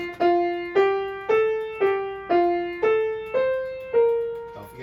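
Piano playing a short single-line melody of eight evenly spaced notes stepping around A and ending on F, each note struck clearly and decaying, close with no talking.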